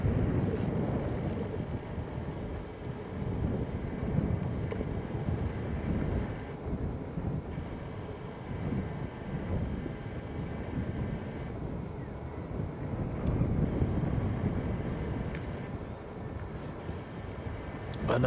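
Steady wind buffets and rumbles across an open microphone at Manchester Airport, a continuous broadband roar with gentle swells and no distinct events.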